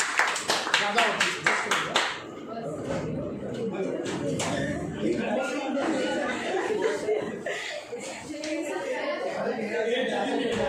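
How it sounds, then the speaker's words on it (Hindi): Students clapping in a classroom during a physics lesson, a short burst of rhythmic applause up front, followed by chatter and laughter from the group. "ताली बजाओ इसके लिए।"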